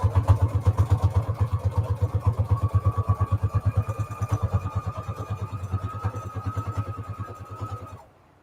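A sewing machine stitches through a soft fabric junk journal cover stiffened with Peltex 72F interfacing, giving a loud, steady, fast needle chatter that runs for about eight seconds and then stops abruptly.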